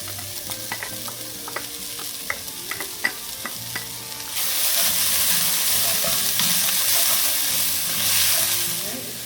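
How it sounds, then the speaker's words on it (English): Garlic sautés in a pot of soup base, stirred with a few scattered utensil taps at first, then a loud, steady frying sizzle and hiss takes over midway and holds close and continuous. "we're going to add the garlic. And we're going to saute that for about 1 minute."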